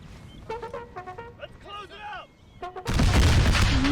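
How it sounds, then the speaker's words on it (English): Musket volleys in Napoleon Total War, set at Gettysburg in an American Civil War mod: a voice talks first, then a sudden loud, dense crackle of massed rifle fire bursts in and continues. "Nice volleys already."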